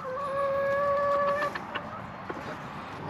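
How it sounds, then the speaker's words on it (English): Chickens make soft clucks and short calls nearby, after a sustained tonal squawk at the start, with quiet pauses between sounds. "You can hear them cluck with glee."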